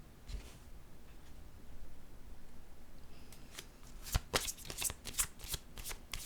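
Tarot cards shuffled by hand, with quiet faint rustling at first, then a burst of sharp, crisp riffles and snaps close up near the end; no talking.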